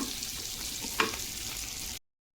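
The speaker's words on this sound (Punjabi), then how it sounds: "ਮੈਂ ਪਿਆਜ਼ ਥੋੜਾ ਜਿਹਾ ਭੁੰਨ ਦਿੱਤਾ" Onions fry gently in a pan over low gas, a soft steady sizzle with one brief scrape of a stirring utensil midway before the sound cuts off.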